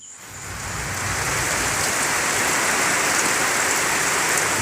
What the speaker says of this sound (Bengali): মাল খালি করতে করতেই কি বৃষ্টি কী বৃষ্টি সে কথা তো বলা যাবে না ভীষণ বৃষ্টি